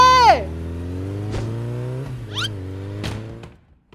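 A cartoon motorbike revs as it speeds off, its steady buzzing engine drone held under a few quick cartoon swoosh effects before cutting out.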